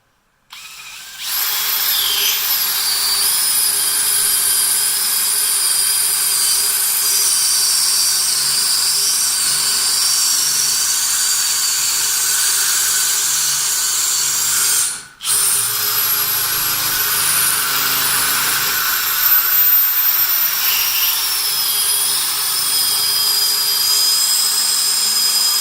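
An XL28 drill bit bores through metal with cutting fluid, giving a loud, steady high-pitched whine that runs continuously with one brief drop near the middle.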